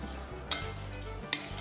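Coriander seeds and cumin dry-roasting in a hot pan off the heat, a faint crackle and rustle broken by two sharp scraping clicks of a stirring spoon against the metal, no speech.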